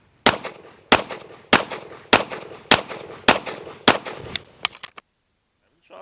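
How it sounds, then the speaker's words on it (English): Pistol shots fired in quick succession during USPSA practical shooting training, about nine sharp reports: evenly spaced at first, then faster and tighter near the end, loud and close, followed by silence. "Shots."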